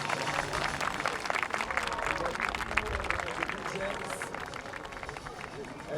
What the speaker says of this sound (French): Je pense qu'on peut déjà tous les applaudir.